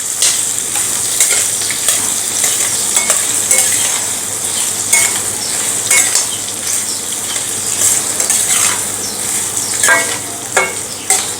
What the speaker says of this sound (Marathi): कैरीच्या फोडी आपण या फोडणीमध्ये एक मिनिटभर परतून घेऊयात